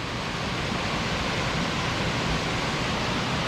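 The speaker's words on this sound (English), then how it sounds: "And look at the waterfall." A waterfall on a storm-swollen Scottish river, where the whole flow is forced through a narrow gap, roars as a steady, dense rush of water, loud and close with no talking.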